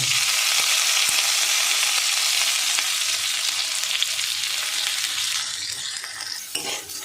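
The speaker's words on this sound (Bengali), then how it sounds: "এই ঘিয়ের মধ্যে আমি এই গোবিন্দভোগ চালটা ভেজে নেব।" Washed Gobindobhog rice fries in ghee with a dense, loud sizzle that fades gradually over several seconds, with occasional light scrapes and taps of stirring near the end and no talking.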